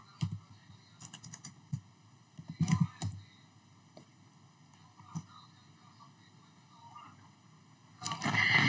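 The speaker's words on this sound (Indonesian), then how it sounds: "Kita ketik." Typing on a computer keyboard while configuring a Cisco switch: scattered soft keystroke clicks in short bursts, with a louder flurry near the end and some quiet talk.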